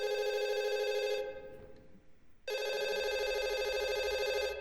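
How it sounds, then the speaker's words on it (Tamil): A telephone rings in a horror video game with a steady electronic bell tone that stops for about a second and then rings again, loud and close, with no talk. "இங்கேருந்து அடிக்குது. இது அங்கே தான் ஃபோன் இருக்கு"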